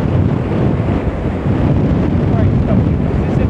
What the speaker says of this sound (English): This is a jetty, the wind's blowing